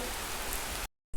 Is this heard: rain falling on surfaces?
yes